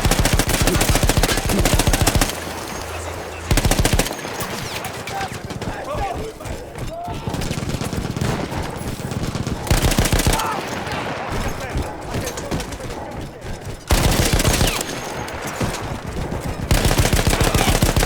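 Machine gun fire in Battlefield 1, an Austro-Hungarian mounted gun in a World War I battle, with loud rapid bursts of automatic fire throughout, broken by short pauses and surrounded by heavy battlefield noise.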